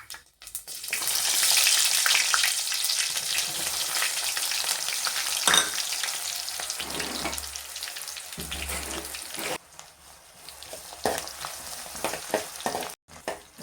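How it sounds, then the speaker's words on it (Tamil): Onions sizzling and frying steadily in hot oil for a Nellai-style fish curry, a dense close crackle that keeps up throughout, with a few brief stirring clatters and dips near the end. "நல்லா வெந்துக்கிட்டு இருக்கு எண்ணெயில். வெங்காயம் நல்லா வெந்துருச்சு."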